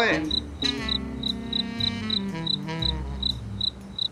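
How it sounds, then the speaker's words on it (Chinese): Crickets chirping at night in a Minecraft animation, indoors in a school dormitory room: a steady, regular train of bright chirps repeating through the whole stretch, under a voice. "我们屋里面有蟋蟀， 大半夜一直在叫。"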